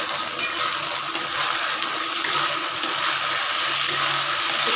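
Cauliflower frying in a hot pan, a steady close sizzle with faint scraping and a few sharp clicks of stirring, no talking.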